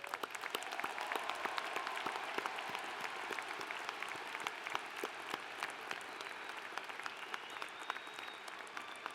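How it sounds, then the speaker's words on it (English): Sustained applause fills a large hall at a spring university commencement ceremony, a steady wash of many hands clapping at a moderate distance. "Please join me in showing our appreciation with a round of applause for all of their efforts."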